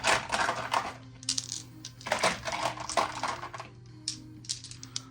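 Eight dice rolled together for a Red Med 7.1 Warsaw Pact wargame, giving a close, fairly quiet series of sharp rattling clatters and clicks in bursts as they tumble and settle on a hard surface.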